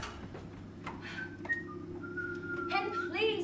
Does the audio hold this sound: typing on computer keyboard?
no